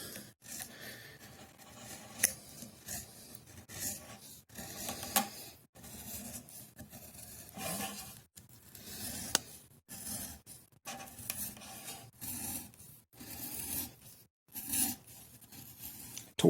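Leather being cut and trimmed on a wood paddle strop, cutting toward the center, giving a close run of short scraping, snipping and rubbing strokes with brief pauses between them.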